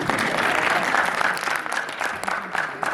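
Audience applause at a business motivation seminar in India, a dense, steady clapping from a crowd that holds for the whole stretch with no voices over it.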